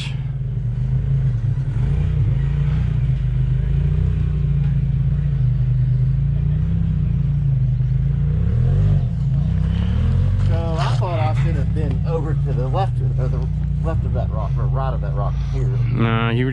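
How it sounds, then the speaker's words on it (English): An off-road rig's engine drones steadily up close while pulling a winch on a rocky trail crawl, low and constant throughout, with people talking over it in the second half. "All right, Joey, let's pull a winch."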